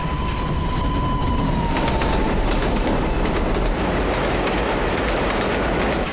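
The Olympiazug propaganda train speeds over the rails with a loud, continuous rumble and rattle of wheels, a faint squeal fading early, no voices.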